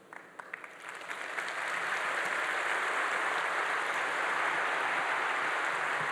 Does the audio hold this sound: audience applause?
yes